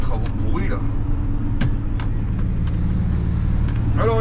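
Road traffic heard from inside a car pulling out to overtake a truck on a roadwork stretch near Marseille, with a steady low engine and road rumble throughout, a brief hiss or knock midway, and no clear talk.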